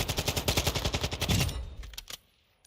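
Rapid automatic rifle fire from an AK in Modern Warfare II multiplayer, a fast burst of close, loud shots for about a second and a half, then a few scattered single shots and a fading tail.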